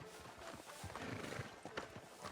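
Horse hooves clop in a steady trotting rhythm on hard ground, close and fairly faint, with a soft whinny-like tone mixed in, from the video game Red Dead Redemption 2.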